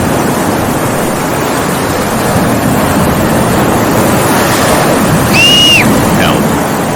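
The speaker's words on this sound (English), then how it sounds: "The storm is growing worse and worse. And the waves keep growing bigger and bigger." A roaring storm at sea batters a small boat that has lost its sail, loud continuous rush of wind and crashing waves filling the whole stretch, with a brief high whistling gust near the end.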